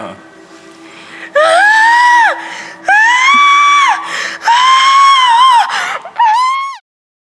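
A voice imitates a victim's scream: four long, loud, wavering wails in close succession, then a shorter, shakier cry that breaks off abruptly, preceded by a quiet low hum.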